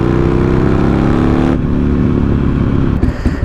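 Buell XB9S motorcycle engine running steadily and loud throughout, with a slight shift in tone midway and a brief drop near the end.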